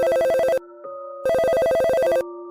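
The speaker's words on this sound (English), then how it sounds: "The distinct ring of the desk phone interrupted my conflicting thoughts." A desk phone ringing in a shopping mall security office at night, two loud electronic trilling bursts separated by a short pause, close and clear with no talk.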